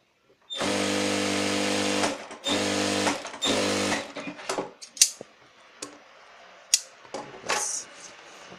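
A sewing machine stitches a petticoat in three steady close runs, followed by scattered handling clicks and fabric rustles.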